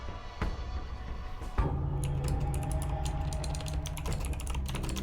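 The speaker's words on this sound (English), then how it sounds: "I can hear very fast typing." Very fast typing on a computer keyboard: rapid continuous clattering keystrokes, close and steady, after a few louder knocks at the start.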